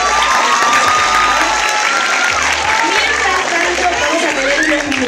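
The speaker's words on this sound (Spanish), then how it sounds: "Así que fuerte el aplauso para Hiro acá en este momento." Sustained applause from an audience at an anime and K-pop convention, dense steady clapping filling the hall with crowd noise and some voices mixed in, loud throughout the whole stretch.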